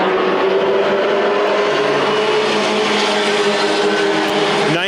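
Dirt track race cars roaring down the backstretch at an Iowa speedway, a loud, steady, close drone of several engines at full throttle, rising briefly at the very end.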